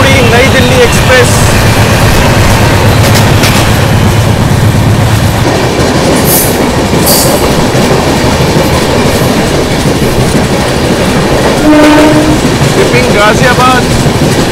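The New Jalpaiguri–New Delhi Express rolls past loud and close, with continuous rumbling and clickety-clack of wheels on rails and short tonal horn-like blasts partway through.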